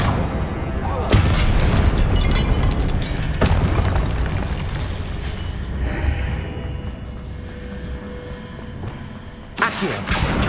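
Incendio fire spell blasts in Hogwarts Legacy, heavy booming bursts and roaring whooshes in dense layered game combat, loud and continuous with a sharp blast near the end.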